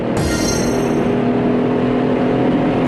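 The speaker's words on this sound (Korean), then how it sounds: "GLE의 엔진 배기음" Steady loud exhaust drone from a Mercedes-AMG GLE 63 SUV engine, a constant low hum with no speech, lasting a few seconds.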